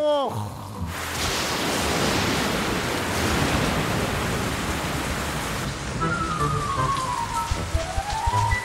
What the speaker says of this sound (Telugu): వర్షం చాలా వేగంగా పడుతుంది.